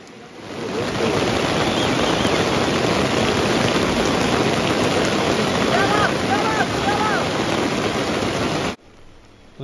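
Heavy rain during a cloudburst near the Amarnath cave in the mountains pours down in a dense, constant roar that holds steady for several seconds, then cuts off abruptly near the end.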